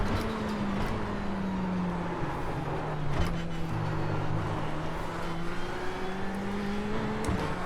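A turbocharged Ferrari 488 GTE in the iRacing video game at Le Mans drones steadily at high revs, its engine note rising and falling through gear changes, loud and close with no talking.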